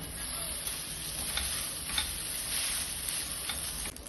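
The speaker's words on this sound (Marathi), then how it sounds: "कांदा लसूण आता ब्राऊन झाला आहे आता ही स्पॅगेटी आपण उकडून घेतलेली होती ती टाकत आहे" Boiled spaghetti tossed into a pan of browned sautéed onion and garlic, giving a soft steady sizzle with light ticking and scraping sounds from close by, with no talking.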